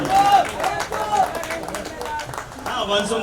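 An audience at a Hindi-Urdu mushaira in Bhiwandi claps to welcome a poet, a continuous patter of crowd applause with voices and a whistle-like tone heard through it.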